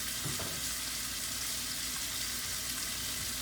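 Frozen cabbage fries in a pan with a steady, dense hiss of sizzling, faint and unbroken throughout.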